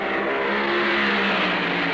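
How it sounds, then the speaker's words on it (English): Ford-powered and Chrysler dragsters at the 1968 Indy Nationals drag strip start, one loud continuous engine roar holding a steady, slightly rising pitch, close and alone. "Don Prudhomme, with his Ford-powered dragster, takes on Dwight Salisbury of Newport Beach, California, in a Chrysler"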